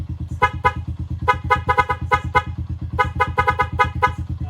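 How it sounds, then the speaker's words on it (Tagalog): A rapid series of harsh honks from a dual horn, sounding in short bursts and clusters over a steady low engine thrum, close and loud. "Dual horn."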